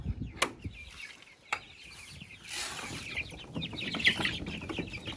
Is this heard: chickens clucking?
yes